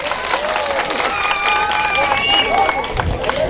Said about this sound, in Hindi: एक बार जोरदार तालियां आप सबों के लिए।